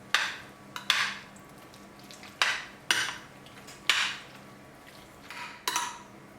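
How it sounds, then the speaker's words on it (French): Broccoli, carrots, onions, crème fraîche and cod are stirred together in a dish for a cod gratin, giving a series of close clinks and scrapes of a utensil against the dish at an uneven rhythm, with no talking. "On mélange le tout. Donc le mélange brocoli, carottes, oignons, crème fraîche et cabillaud."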